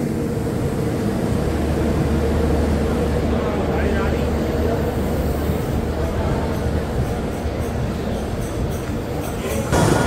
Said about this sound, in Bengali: 7:56 আমাদের ট্রেন কিন্তু সাঁতরাগাছি স্টেশন ছেড়ে বেরিয়ে আসলো।